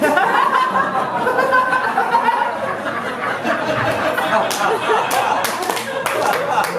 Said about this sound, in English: That does deserve an applause break